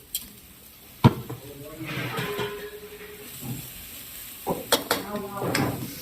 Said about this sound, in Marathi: किती वेळ फ्राय करायचं? 2-3 मिनिटं हाय फ्लेमवर.